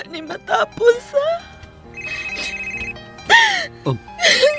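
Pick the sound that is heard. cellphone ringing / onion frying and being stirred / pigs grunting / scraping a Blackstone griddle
cellphone ringing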